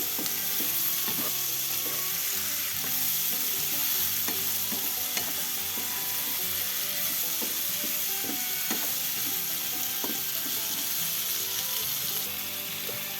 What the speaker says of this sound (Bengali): টমেটোগুলোকে ভালো করে মশলার সাথে মিক্স করে নিচ্ছি।